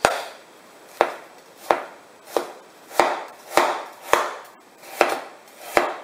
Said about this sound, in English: nothing that the cleaver can't handle